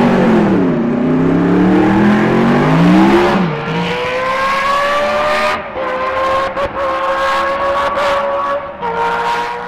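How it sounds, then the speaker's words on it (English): BRM V16 Formula 1 engine screaming at high revs, its sharp tonal howl sweeping upward through gear changes with brief dips between shifts, loud and close. "listen to the BRM V16 engine, which Autosport chief editor Kevin Turner s"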